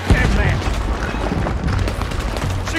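Battle gunfire and cannon booms in the game Red Dead Redemption 2, a dense, loud barrage of overlapping shots and low rumbling blasts filling the whole stretch.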